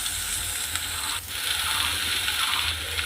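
Flattened rice (chira) frying in a pan, a dense continuous hiss and crackle with a faint scraping rattle underneath, close and steady, no voices.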